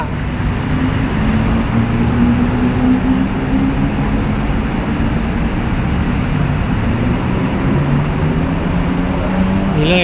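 Traffic rumble on Rama 4 Road in Bangkok beneath the elevated BTS Skytrain line, with a steady loud wash of passing vehicles and a low train-like hum sustained throughout.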